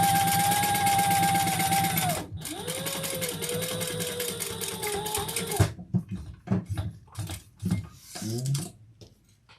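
A sewing machine stitches a Monroe handbag in a fast, steady mechanical whir with a rising motor tone, stops abruptly, then runs again and breaks into shorter uneven bursts and clicks.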